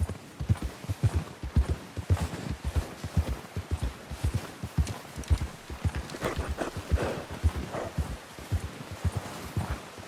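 Horse hooves pounding the ground in Red Dead Redemption 2 on a hunting ride, a steady close rhythmic drumming of galloping hoofbeats throughout, with faint rustling along the way.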